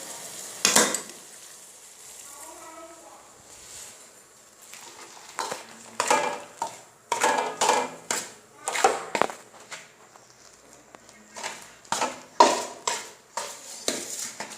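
Maize flour dough is stirred and pressed into hot water in a metal pot, giving a series of scraping, slapping strokes in an irregular rhythm with brief pauses, no talking.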